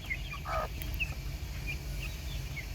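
Native desi chicken chicks, just let out of their cage, give a few faint, high chirps and soft clucks over a low, steady background hum.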